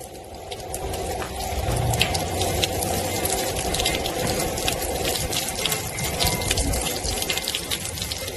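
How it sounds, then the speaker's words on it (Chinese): Water trickling and splashing over a miniature rockery landscape ornament with a waterfall feature, a steady close gurgling flow with a faint pump hum underneath, continuous throughout. "这儿也可以做流水"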